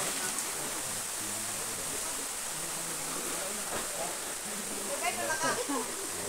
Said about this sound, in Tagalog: Kasi agos po yung tubig na yan.